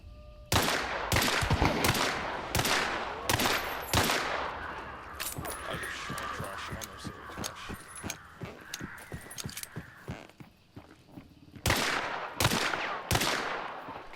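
Gunshots from a shooter game on a rooftop: a series of loud, sharp reports spaced out irregularly, with a busier stretch of smaller clattering sounds in the middle, followed by several more heavy shots toward the end.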